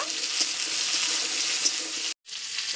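Taro sizzles in a pan with fried onion and garlic, a continuous bright hiss with faint stirring scrapes and a brief break near the end.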